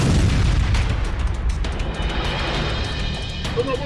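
A rocket fired at a tank in fighting near Rafah, Gaza, sets off an explosion: a loud, heavy boom at the start that rolls into a rumbling decay.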